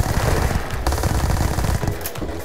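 Street Sweeper gun hip-fired in the video game Starfield: a loud, rapid burst of repeated shots in a continuous automatic stream with no talking.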